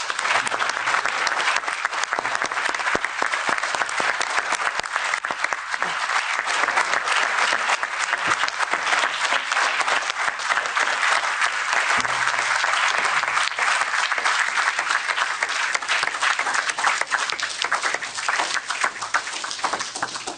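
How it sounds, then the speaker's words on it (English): Loud, sustained audience applause at a public gathering in support of a European citizens' initiative, dense and continuous for about twenty seconds with no voices over it. "So can we please give a round of applause to the people that have travelled so far to be here today?"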